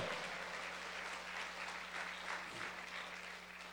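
A church congregation claps together in a continuous, fairly even roar of hands, slightly distant and reverberant, swelling and easing gently over a few seconds with no talk over it.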